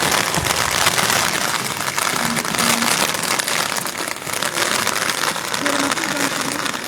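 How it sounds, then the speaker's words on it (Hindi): Heavy rain pours steadily in Shimla as a dense, continuous hiss of drops on surfaces, with a few faint tones and distant rumbles underneath. "और अब देखिए बारिश का दौर जो है वो तेज़ होता हुआ यहाँ पर"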